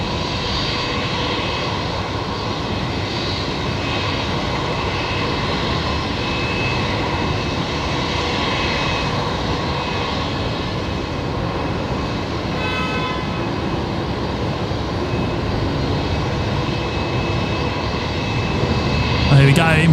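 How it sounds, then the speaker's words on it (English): Embraer jet coming in to land from Canberra on the legacy runway at Brisbane Airport, a steady loud engine roar with a rising swell near the end, heard from the airport's edge with people talking. "Here we go, Embraer just about to touch down here on the Legacy runway coming in from Canberra."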